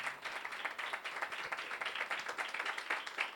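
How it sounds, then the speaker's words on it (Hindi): A church congregation gives loud applause in praise of the Lord, a dense, continuous patter of many hands clapping at a steady moderate distance. "तो ज़ोरदार तालियां बजानी चाहिए"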